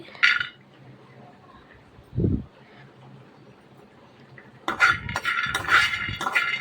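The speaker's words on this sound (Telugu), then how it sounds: "ప్యాన్ తీసుకొని దాంట్లో అయితే వేరుశనగ పప్పు అయితే వేయాలి" Peanuts tipped into a cooking pan make a few light clinks and rattles at the start, a dull thud midway, then a longer busy stretch of clattering and scraping against the metal at the end.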